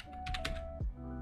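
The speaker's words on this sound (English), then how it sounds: "we're going to type in git" Keys tapped on a computer keyboard while a git command is typed, a quick burst of several soft clicks close by at low volume over a faint steady hum.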